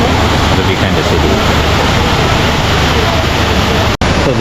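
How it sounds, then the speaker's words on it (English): Kuang Si waterfall in Laos roars loud and close, a constant broadband rush of falling water that fills the whole clip with no break. "So this is the waterfall"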